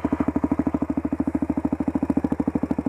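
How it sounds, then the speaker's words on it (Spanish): Chinese motorcycle engine running steadily while riding through a town, a fast even thudding pulse with continuous exhaust drone, close and loud throughout. "con esta moto china me estoy recorriendo todo y anda muy bien esta."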